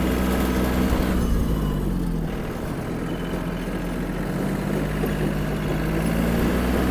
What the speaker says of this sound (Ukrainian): Газ в пол. Зверніть увагу на вихлоп.